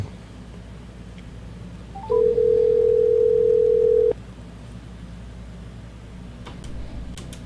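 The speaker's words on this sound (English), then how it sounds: "Let's see if we can call him up, get him on the phone." A telephone tone sounds steadily for about two seconds as a call is placed, loud and clear over a low background hum, followed by faint clicks on the line.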